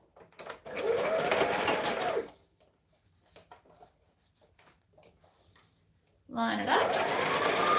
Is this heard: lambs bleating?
no